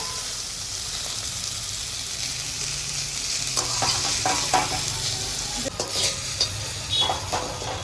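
Shol fish sizzles steadily as it fries in oil in a kadai, a village-style cooking scene, with light scraping and clinking of a spatula against the pan growing in the latter half.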